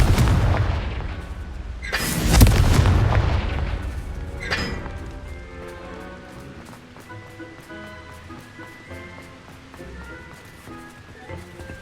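A heavy booming fire-spell blast goes off in Hogwarts Legacy, loud and close, with a rumbling explosive burst early on that fades into a lingering roar and layered game music and ambience.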